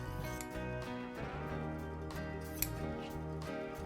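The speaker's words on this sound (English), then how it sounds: "So I'm just going to open it up and just cut diagonally" Scissors slice through a cotton T-shirt in a diagonal cut to make T-shirt yarn, giving a series of soft, close snipping and fabric-rustling sounds at moderate level, with no talk.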